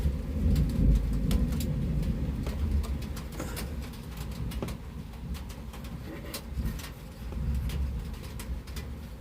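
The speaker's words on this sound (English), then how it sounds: "the daggone rain making all kinds of noise. The rain hitting the siding." Steady rain patters against house siding, with scattered sharp taps over a dense low rumble, continuous throughout.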